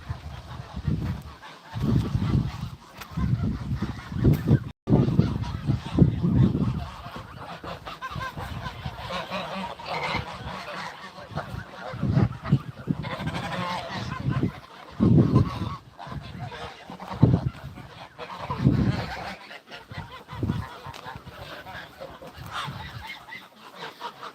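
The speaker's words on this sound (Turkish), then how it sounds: "Kazlarımıza yem verdik arkadaşlar. Şu anda yem peşinde hepsi." A flock of farm geese honks repeatedly while eating feed, with loud nearby calls in irregular bursts mixed with softer honking and rustling over about twenty seconds.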